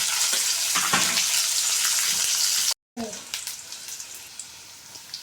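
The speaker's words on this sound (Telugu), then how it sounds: "కలుపుకున్నాక వేగనిద్దామండి." Ridge gourd curry with green chillies fries in a pan with a bright, steady sizzle, interrupted by a brief silent cut before the sizzling resumes more faintly with light stirring.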